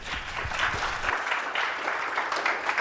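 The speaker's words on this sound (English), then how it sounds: "Let's give him a big clap." An audience at a programming-languages conference talk applauds steadily for about three seconds, a moderate, even patter of many hands with no voices over it.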